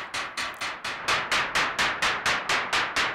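Rapid, evenly spaced bursts of bright hissing noise from a Behringer Model D synthesizer setup, filtered, repeat about thirteen times, each sharp attack decaying quickly like a synthetic snare hit.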